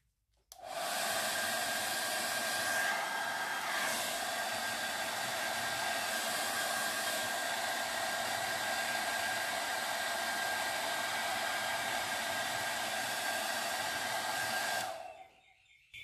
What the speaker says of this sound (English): And then do the same with a hairdryer.